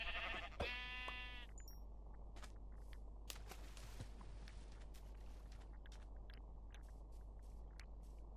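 A sheep bleats in Minecraft, a short burst near the start, then footsteps and small game noises carry on under steady background hum.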